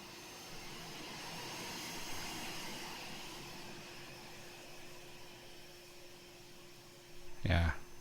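Eclipse 550 NG jet flyby in a flight simulator around KABQ: a steady, fairly quiet jet engine whine and rush holds throughout, with a brief louder burst near the end.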